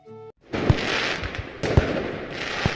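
Diwali fireworks and firecrackers crackle and hiss in a continuous burst, punctuated by a few sharp loud bangs, after a brief tonal sound at the start.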